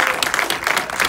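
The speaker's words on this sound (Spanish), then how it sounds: "Vamos a darle un fuerte aplauso." A short burst of applause, a group clapping steadily at close range.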